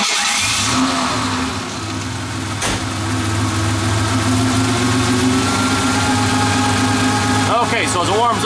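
A 1988 Ford Ranger engine turns over and settles into a steady, close idle with a low constant hum and faint mechanical whine, a brief sharp transient partway through, with someone speaking over it.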